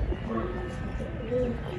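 A captured female pigeon coos softly and low, close by, in a short murmuring phrase; a faint voice is also present.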